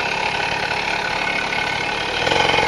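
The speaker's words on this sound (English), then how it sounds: "cannot believe I got the engine kicked. Well, the engine worked." Small Tomos Bullet A3 moped engine idling steadily up close, a continuous buzzing putter that swells slightly louder near the end.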